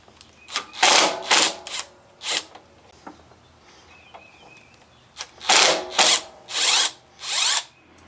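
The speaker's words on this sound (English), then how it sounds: "you can also use a T25 star bit, which I'm going to use because it's easier to get it in and out of there" A driver fitted with a T25 star bit backs out carburetor screws on a Craftsman M430 mower, giving two clusters of loud, close ratcheting bursts separated by a quieter pause.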